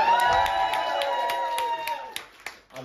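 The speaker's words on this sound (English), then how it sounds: "Can we have a cheer for everyone else?" Comedy club audience at a stand-up show cheering and clapping at the comic's request, a short burst of whoops and scattered claps that fades within a couple of seconds, leaving a few isolated claps and murmurs.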